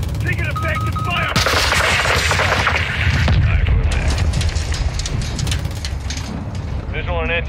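Gunfire and artillery ring out in the Call of Duty Modern Warfare 2 video game, with sharp rapid shots and heavy blasts packed densely together, loud and close, while voices shout over the chaos.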